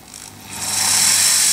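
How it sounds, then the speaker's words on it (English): A power drill bores slowly through a plastic found object held firmly over wood, its motor whine rising and then holding loud and steady close by. "I'm holding this really tightly and just popping the drill there, and we just go slowly through"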